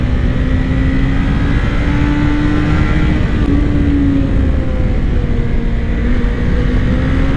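A Suzuki GSX-F 600 Katana motorcycle engine running: a loud, steady droning hum with a slowly shifting pitch and heavy wind-like rumble, constant throughout with no voices.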